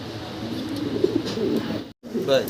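Fancy pigeons cooing in a cage at a bird market, a steady low murmur of calls throughout with a brief gap, close by and moderately loud.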